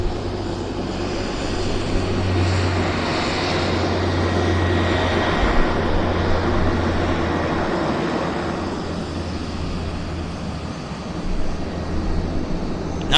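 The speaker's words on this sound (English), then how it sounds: "Westjet on the roll." A WestJet airliner rolls for takeoff at Vancouver Airport, a steady broad engine roar building and swelling in the distance, with no one talking.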